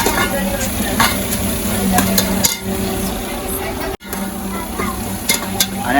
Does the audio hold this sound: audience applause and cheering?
no